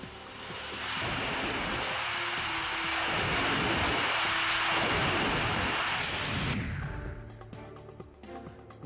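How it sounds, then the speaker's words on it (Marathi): Heavy monsoon rain pours steadily as a dense, loud broadband roar, with a thunderstorm in the Nandurbar district area of Maharashtra, easing slightly near the end. "2 दिवसापासून मुसळधार पाऊस परिसरात बरसतोय"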